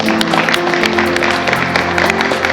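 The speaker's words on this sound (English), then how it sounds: "give yourself a big round of applause, please" Audience applause during a live keynote event, dense and sustained clapping from a sizeable crowd, loud and steady, with a low hum underneath.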